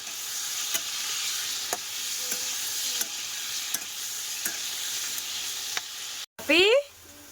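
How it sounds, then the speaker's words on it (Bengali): Potatoes fry in a pan in a home kitchen with a steady hiss and sizzle, punctuated by regular sharp clicks of a stirring utensil, ending in a brief louder scrape. "আর এখানে কিন্তু হচ্ছে আলুটাকে ভাজা, খুব ভালো করে ভাজবো।"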